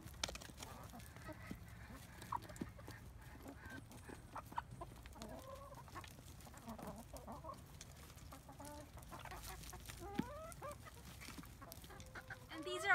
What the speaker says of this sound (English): These are our chickens here at McClellan.